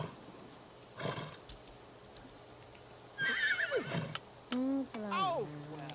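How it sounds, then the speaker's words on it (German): A horse in a garden in The Sims 3 gives loud whinnies late on, after a brief earlier sound, with someone talking at times alongside. "Ein Pferdl im Garten."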